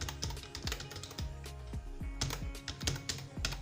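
Computer keyboard typing Arduino potentiometer code, with rapid, uneven clacking keystrokes in close succession, some heavier thuds among them, near and clear with no talking.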